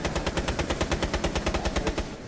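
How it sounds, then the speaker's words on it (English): Rapid automatic gunfire in the tactical shooter game Rainbow Six Siege, a loud, close, steady stream of about twenty evenly spaced shots with no break. "From that position, they're shooting from there."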